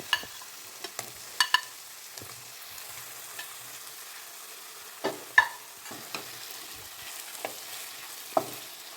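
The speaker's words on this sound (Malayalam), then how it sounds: "നമ്മുടെ ഉള്ളി മസാലയും ചെമ്മീനും കൂടെ മിക്സ് ചെയ്ത് കൊടുക്കാം" A utensil stirs fried prawns into onion masala for prawn biryani, with scattered scraping and clinking strokes over a faint sizzle and quiet pauses between them.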